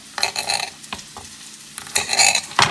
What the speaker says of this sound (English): Oops, I hear sizzling.